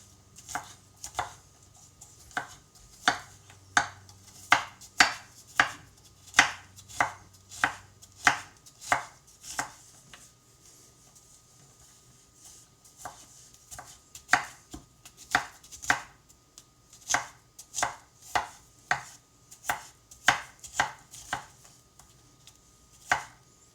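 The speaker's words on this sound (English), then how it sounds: "And we're going to do a couple sequences of chopping here." A knife chops garlic for a sausage skillet in quick, crisp, rhythmic strikes, sounding in two runs separated by a short pause, close and clear with no talking.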